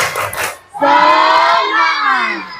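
Group of elementary school students in a classroom performing the "tepuk semangat" spirit chant, a brief rhythmic burst followed by a loud, sustained unison shout of many young voices.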